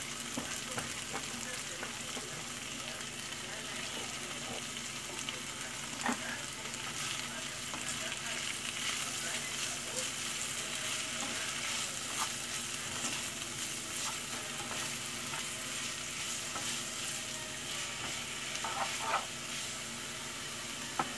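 Spinach frying in a pan with ham and bacon gives a steady close sizzle with scattered pops and crackles and occasional stirring scrapes, running unbroken for the whole stretch.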